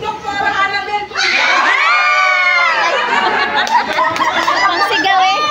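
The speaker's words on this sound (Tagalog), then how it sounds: "Ang sigaw eh." A crowd at a Christmas party raffle erupts in loud, high-pitched shouting and cheering that builds after a second and stays sustained, with excited squeals and chatter mixed through it.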